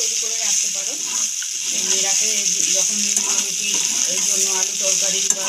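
Homemade achari spice masala sizzles and hisses in a pan while being stirred for an amla pickle, a steady close frying noise running under a voice that keeps talking.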